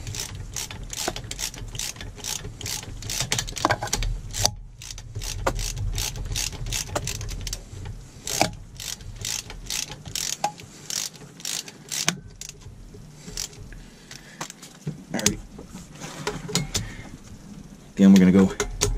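A ratchet clicks in quick bursts while tightening exhaust manifold bolts on a MerCruiser 5.7 marine engine, close and mechanical, with a person talking over the work.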